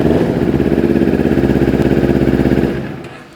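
Kawasaki Z1000 motorcycle idling cold after an injection fault was repaired, a steady close-up pulsing engine hum that drops away and fades near the end.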